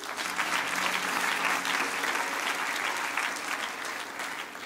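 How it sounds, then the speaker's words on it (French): A church congregation applauds and cheers in a broad, steady burst of clapping that fills the space evenly for the whole stretch, with a few scattered voices mixed into the crowd. "On peut acclamer pour Marc-Olivier."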